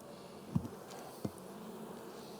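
Honeybees buzz around an open hive during a summer hive inspection: a low, steady, fairly faint hum with two soft knocks against the frames.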